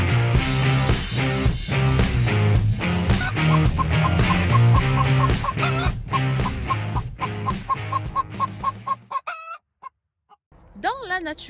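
Hens in a backyard coop cluck and squawk loudly and continuously, with a rooster-like call standing out near the end as the flock noise briefly drops away.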